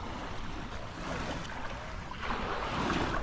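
Sea waves wash and wind blows steadily across the microphone at the shoreline as a fishing kayak is launched into the sea, a continuous broadband roar that swells slightly toward the end, with no voices.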